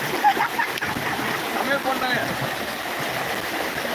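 Steady rushing, splashing water roars continuously, like a waterfall nearby, with faint voices mixed into the wash.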